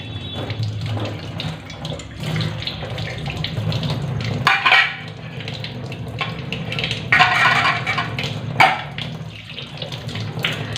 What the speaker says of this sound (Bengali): এখন জল ভরছি